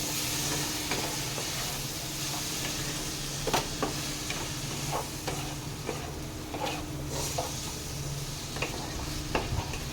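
Okra sautés in a pan with turmeric, cumin and coriander powder, giving a soft, continuous sizzle broken by occasional scraping clicks from stirring, quiet and close with no one speaking.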